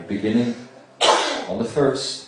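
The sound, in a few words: sneeze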